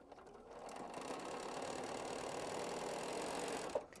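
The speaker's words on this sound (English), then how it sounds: "So I'm just going to keep sewing this side." A sewing machine stitches quilt triangles to background squares in a steady, even whir that runs almost the whole time. The sound is quiet and close, with a small clunk near the end and no talking.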